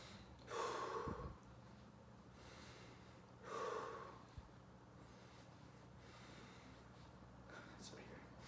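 A patient takes two deep breaths during a lung sound check in a head-to-toe assessment, each a soft airy rush of inhalation and exhalation, spaced about three seconds apart in a quiet room.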